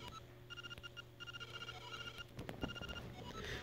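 A telephone rings in the game The Legend of Zelda: Link's Awakening, sounding as faint, repeating electronic trills in short regular bursts with no talking.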